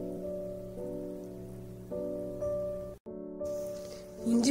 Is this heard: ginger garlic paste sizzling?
yes